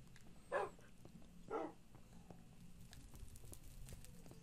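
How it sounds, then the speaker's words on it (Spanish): Two dogs bark in the Nether dimension of the video game Minecraft, two short synthetic barks about a second apart, fairly faint over low game ambience. "ahorita acabamos de descubrir de que los perros sí se vienen para el Nether"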